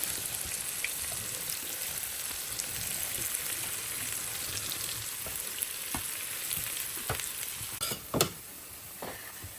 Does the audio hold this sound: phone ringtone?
no